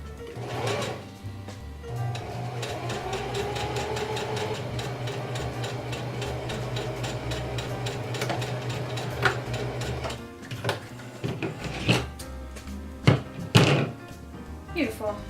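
A home sewing machine runs a zigzag stitch on a dress, its motor whirring steadily for about ten seconds before stopping. Scattered knocks and handling clunks follow, and a voice is present.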